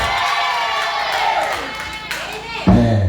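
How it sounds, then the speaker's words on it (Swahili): A church congregation during prayer breaks into loud sustained cheering and shouting, a dense wall of many voices with scattered clapping, ending in a sudden louder burst. "Alafu anza kupiga makofi. Na kama una mdomo nao toa sauti, sema amina, pigia Yesu kelele."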